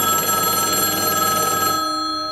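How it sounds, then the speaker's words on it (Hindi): Bright, steady electronic telephone ringing, a continuous buzzing ring that holds for about two seconds and then cuts off. "फिर से एक रिंग बजी।"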